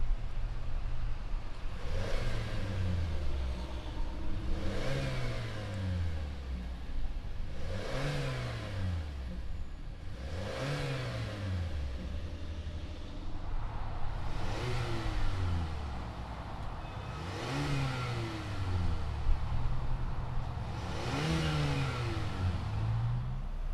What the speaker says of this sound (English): let's go ahead, fire these two up, and see what they sound like.